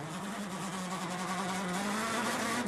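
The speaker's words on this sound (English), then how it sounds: "Engine stuttering after the water splash." A rally car's engine drones at a constant pitch after a water splash on a European Rally Championship stage, loud and close with no obvious change in rhythm during the short burst.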